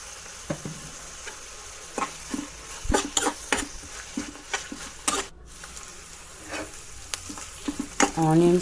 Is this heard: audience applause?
no